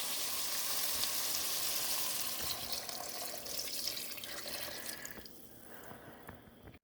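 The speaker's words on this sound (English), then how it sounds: "We're going to be adding in our 4 cups of broth that this one calls for." Broth poured into a hot soup pot for Italian wedding soup, a steady hissing, splashing pour with faint sizzling that runs continuously and then tapers off, fading toward the end.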